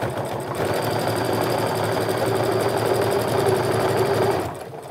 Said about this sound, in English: I'm going to sew right up to that pin where the seam allowances are